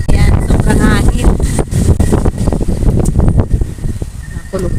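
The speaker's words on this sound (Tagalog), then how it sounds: "Ayan, sobrang hangin." Strong night wind buffets the microphone in a picnic grove, a steady heavy rush throughout while a person talks over it.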